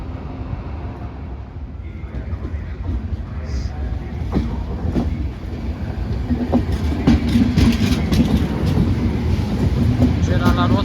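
Wheels of an old-style train clatter over the rails with a steady, loud rumble and irregular clacks, rising slightly in intensity through the clip, with no talking heard.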